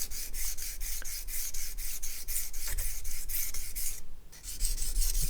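A knife blade is stroked back and forth on a sharpening stone, making a steady, close rasping scrape in an even rhythm of repeated strokes with a brief pause near the end.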